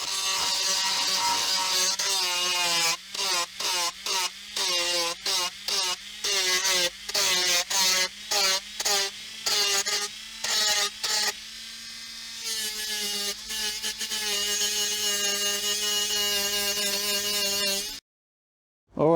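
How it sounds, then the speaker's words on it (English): Small rotary grinder shaving down the hull bulwarks of an M/S Finnmarken model ship kit from Tuerk Models, a steady high whine broken by repeated short pulses as the tool touches the workpiece, then running continuously before abruptly stopping. "so I had to grind this down."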